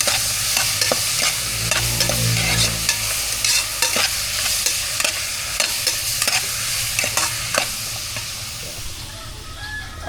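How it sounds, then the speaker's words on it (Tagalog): A salmon head sizzles as it is sautéed in a pan, steady frying hiss with repeated sharp scraping stir strokes close up, no talk. "Ginigisa ko yung ulo ng salmon para hindi malansa."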